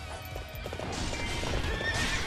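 A horse in the video game Hyrule Warriors neighs and whinnies while its hooves clip-clop in a fast gallop, loud and close over game noise.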